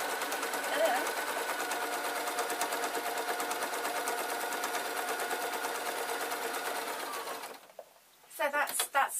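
A sewing machine stitches a waistcoat in a rapid, continuous mechanical whir for several seconds, then stops, followed by brief quieter handling sounds.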